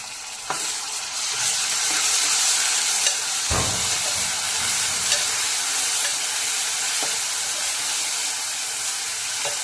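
Onions fried golden with ginger paste in a pan for a tamarind-leaf mutton curry, a loud continuous sizzle and hiss up close, with a single clatter of stirring partway through and no voices.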